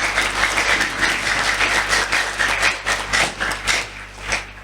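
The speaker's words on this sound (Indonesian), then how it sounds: "Tepuk tangan semuanya." Students at a school prayer gathering for exam success at SMK TKM Purworejo clap together in a steady, fairly loud burst of applause close by, with a low hum underneath and no talking.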